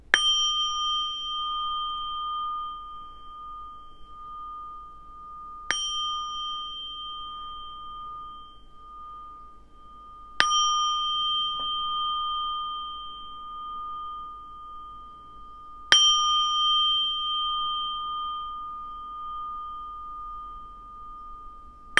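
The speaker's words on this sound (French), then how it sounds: "on va purifier les énergies avec mon bol" A singing bowl is struck four times at spaced intervals, each strike a clear bright ding followed by a long sustained ringing hum that slowly fades before the next, with no talking.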